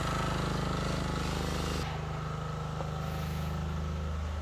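A Sumitomo excavator's diesel engine running with a steady heavy rumble and rhythmic throb, shifting pitch partway through as it settles after starting, close and loud with no voices.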